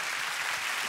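Studio audience applause on a Korean music talk show, a brief, even wash of many hands clapping at moderate loudness, with no voices over it.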